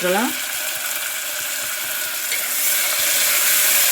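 Tomatoes and salt sizzling steadily in a hot pan, a continuous bright hiss with faint scraping, close by; a brief clink near the start.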